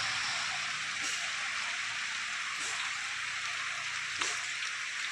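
Steady, continuous rain hiss fills the whole stretch at an even level, with a few faint drip-like ticks rising through it and no voices.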